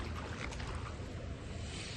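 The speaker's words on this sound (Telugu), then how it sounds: "సో బయట ట్రాక్టర్ నడుస్తుంది మొత్తం. ఇట్లా వాటర్ కొడుతుంది." A tractor running outside a function hall splashes water, heard as a continuous broadband rush with a low rumble underneath, fairly distant and steady.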